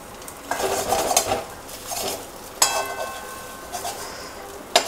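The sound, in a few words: small pieces being stir-fried in a pan for fried rice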